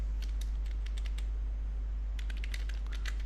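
Keystrokes on a computer keyboard in two short bursts, quick light clicks at the start and again near the end with a quiet pause between, over a steady low hum.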